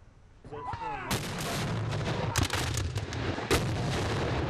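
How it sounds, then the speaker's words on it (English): Loud booming blasts of cannon fire ring out over a busy outdoor crowd at a Battle of Fort Fisher reenactment, with repeated sharp reports and rumbling echoes throughout. "As the cannons are fired and the guns raised"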